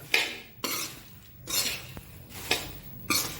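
Puffed rice with salt shaken in a pan, giving four or five loud, dry rattling swishes at a steady rhythm with short pauses between them, close by and with no talk.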